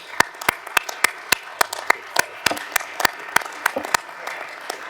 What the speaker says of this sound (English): a warm round of applause for our 6 panelists